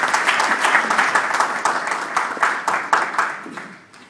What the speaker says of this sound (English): A big hand, a big clap for them, because they are our heroes.